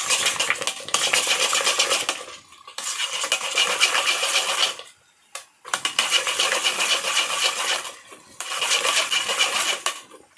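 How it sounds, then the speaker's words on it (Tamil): Cooked toor dal being mashed for sambar, heard as steady scraping and clattering of a utensil against a vessel in repeated bursts of a few seconds, with brief pauses between, close and fairly loud, no talking. "பருப்பை நல்லா கடைஞ்சி வச்சுக்கலாம்."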